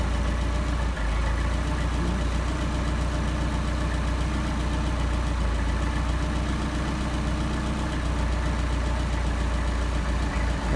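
A car engine fitted with a 44PHH Solex carburetor runs steadily at close range while its mixture is adjusted, giving a continuous low rumble with a slightly uneven, stumbling beat that changes in pace.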